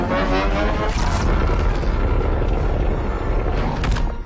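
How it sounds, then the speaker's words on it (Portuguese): A heavy explosion in a Godzilla monster film, a deep sustained roar with rumbling low end and crackling debris bursts, loud and dense for several seconds with no voices. "causando outra explosão que dessa vez mata o Ghidorah."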